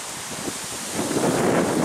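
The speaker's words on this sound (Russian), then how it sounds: "Надеюсь, что меня слышно, и ветер вам сильно не мешает." Steady wind buffets a microphone outdoors during a walk along a riverside embankment, a loud, constant rushing roar that swells a little louder partway through.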